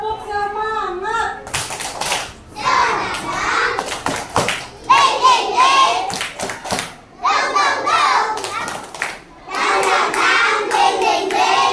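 Children in a classroom perform a rhythmic spirit clap, bursts of patterned claps alternating with their chanting voices at close range.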